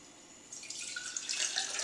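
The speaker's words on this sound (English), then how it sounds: "First, well, I'm going to dump my water." Water poured out of a container into a sink, a short splashing rush that starts after a brief quiet moment and grows louder and fuller toward the end, close by with no talk.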